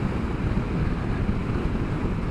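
Steady wind buffeting a microphone on a moving 2021 Royal Enfield Interceptor motorcycle, a dense low rumble that stays loud and unbroken throughout with no speech.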